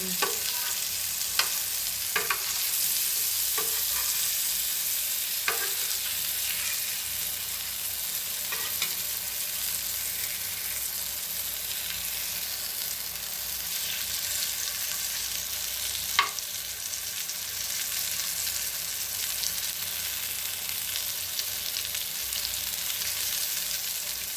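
Fish frying in a pan, one side cooking before being turned, with a continuous moderate sizzle and a few scattered crackles and pops, close by, without voices.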